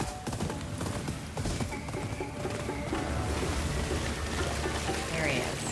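A horse in the video game Ghost of Yotei gallops in a rapid clip-clop rhythm under a wash of rain-like ambience, with a person talking over the action.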